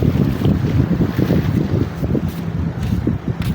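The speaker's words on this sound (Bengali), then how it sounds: "ডেঙ্গি নৌকা যাচ্ছে" A small dinghy boat passes on the Singa River, heard as a low, uneven rumble mixed with heavy wind buffeting the microphone; no one speaks.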